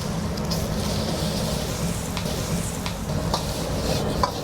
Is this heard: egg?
yes